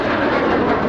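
An Alpha Jet flying an Immelmann-style loop at an airshow gives a loud, steady jet roar, close and unbroken for the whole moment.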